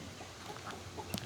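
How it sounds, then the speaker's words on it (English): Soft clucks from a few chickens come in scattered bursts, faint and fairly close, over a quiet outdoor background. "as the chickens chase me down"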